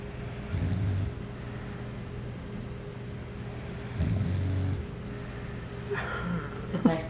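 A person snores in a few slow, rough breaths, near and fairly loud, with quiet pauses between them and a brief burst of other sound near the end.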